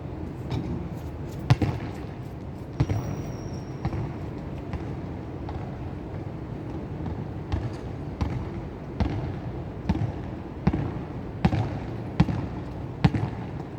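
Basketball bouncing repeatedly on an outdoor court in a compound during night shooting practice, sharp thuds recurring at irregular intervals over steady background noise, growing more frequent toward the end.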